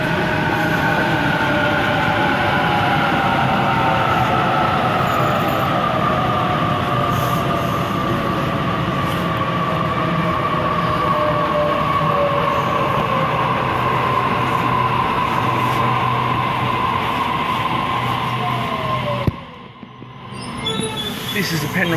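A Sydney train pulls out of Cheltenham station with a loud, continuous rolling rumble, rising motor whine and wheel squeal close by, the sound cutting away sharply near the end.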